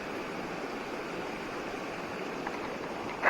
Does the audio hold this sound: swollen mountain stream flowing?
yes